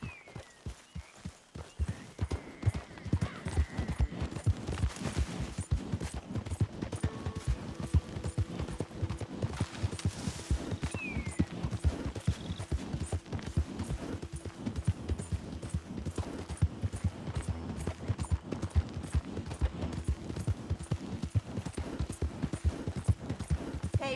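Horse hooves clip-clop steadily in Red Dead Redemption II, a continuous rhythmic walking gait with dense, close hoofbeats and no talking.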